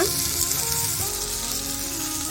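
Chopped onion and green chillies frying in hot oil for a chickpea bassaaru, a steady dense sizzle that stays close and even throughout with no voices.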